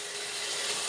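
Bottle gourd pieces sizzle and hiss in a hot pan as they are stirred, a steady close frying crackle throughout with a brief brighter scrape near the end.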